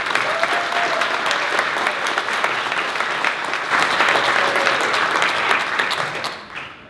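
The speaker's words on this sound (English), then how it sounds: "Everybody, give them another round of applause." Audience applause at the closing ceremonies of Penguicon, a 2013 convention, sustained and dense for several seconds, then tapering off at the end.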